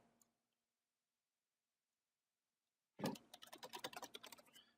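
Rapid typing on a computer keyboard while entering text in Adobe Illustrator CS6, a quick run of close, crisp key clicks starting abruptly after about three seconds of silence.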